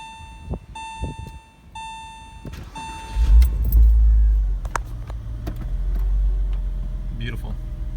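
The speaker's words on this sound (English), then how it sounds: "We'll see how it starts now." A Porsche 986 Boxster engine, just fitted with a new fuel filter, starts up after keys jingle and a chime beeps repeatedly, then settles into a deep, steady idle close by.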